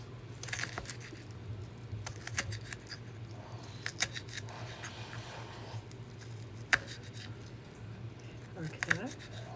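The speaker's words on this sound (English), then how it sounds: "cut up this half a jalapeno" A knife dices half a jalapeno on a cutting board for pico de gallo, giving quick irregular clicks and taps up close, with a low background hum and a person talking over them.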